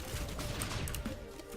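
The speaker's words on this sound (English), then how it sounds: "we are getting explosions" Primary fire with explosive item effects in Risk of Rain 2 sets off a dense, continuous crackle of small explosions and gunfire, faint and blended into the game's ambient mix.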